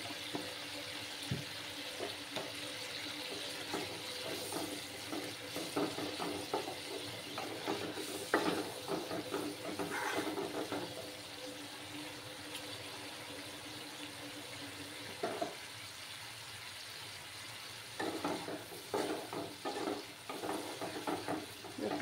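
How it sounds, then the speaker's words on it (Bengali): Cashews and raisins with a pinch of turmeric fry in oil, giving a soft, steady sizzle broken by occasional stirring scrapes, quiet throughout with no talking. "আর কাজু আর কিশমিশ। এগুলো ভালো করে ভাজতে হবে।"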